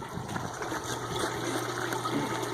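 Water gushes and churns steadily through a Gold Webb tube as miner's concentrates wash out, a loud, continuous rushing flow with a pump-like hum beneath and no speech.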